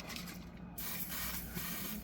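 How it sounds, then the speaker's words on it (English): CLP cleaner sprayed from an aerosol can down into the action of a Huldra Mark IV rifle being cleaned after a jam, a steady close hiss that continues without a break. "spraying right down in there, and there's copper coming out."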